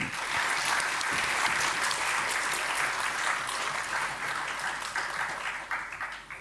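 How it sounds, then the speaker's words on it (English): An audience at a memorial lecture breaks into a sustained round of applause, dense and steady clapping filling the room before tapering off at the end. "I think we can give another big round of applause to sir."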